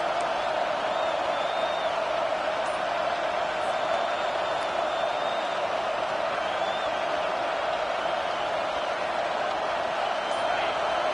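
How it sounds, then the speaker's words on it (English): Home crowd in a College Football 25 stadium keeps up a steady, dense roar of cheering through the whole stretch, loud and continuous with a few whoops and whistles rising above it. "Here comes this home crowd"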